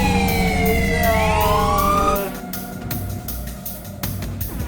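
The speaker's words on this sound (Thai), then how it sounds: "มาแล้วหัวไซเรนวิววิววิว" The police Siren Head in a Roblox prison-escape game blares a loud wailing siren with sweeping tones, then it cuts to a pulsing, rhythmic siren pattern that continues close and loud.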